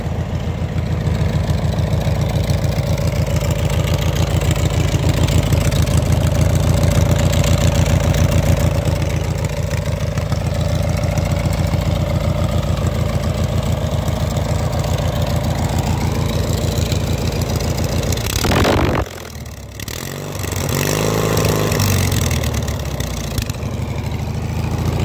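A homebuilt engine idles with a steady, low throbbing rumble close by. Near the end it briefly dips and sputters, then settles back into its idle.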